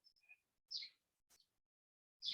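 A few faint, high bird chirps and tweets, short and spaced apart in an otherwise quiet setting.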